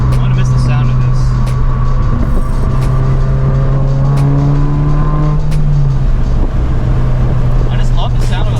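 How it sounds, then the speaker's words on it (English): A car's boxer engine drones loudly and steadily up close, its deep rumble rising and falling in pitch as it revs, with voices talking over it. "I just love the sound of a boxer engine."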